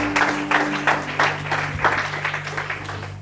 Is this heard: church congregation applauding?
yes